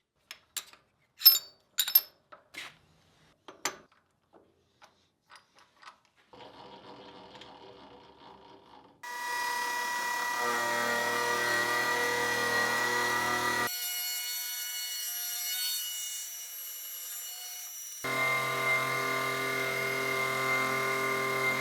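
A milling machine with a 2-inch carbide-insert face mill squares up a cast brass ingot. A few sharp metallic clinks come first, then a sustained whirring machining tone that shifts pitch as cuts change, steady and fairly loud with no talking.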